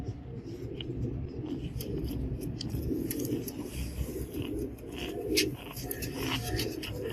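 Soft cooing and fluttery calls from Imam Din breed pigeons close by, repeated in low murmuring phrases over a gentle background with occasional light clicks.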